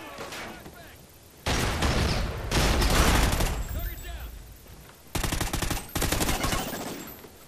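Suppressed Honey Badger rifle fire in a Call of Duty Ghosts multiplayer match: several loud, close bursts of muffled automatic shots, separated by brief pauses, with talk over the gaps.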